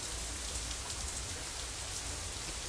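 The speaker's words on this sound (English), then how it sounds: "I told you how much I like rain." Steady, soft rainfall hisses evenly throughout, a constant wash of drops with no other sounds standing out.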